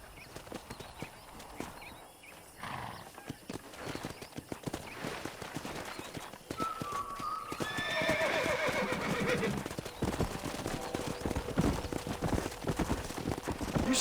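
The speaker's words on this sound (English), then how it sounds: "there's a pack of wild horses nearby" Wild horses in the Red Dead video game whinny and neigh over a steady clip-clop of hooves, with a rumbling field of galloping that grows louder and fuller partway through, busy game ambience underneath.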